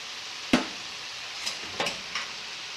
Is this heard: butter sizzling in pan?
yes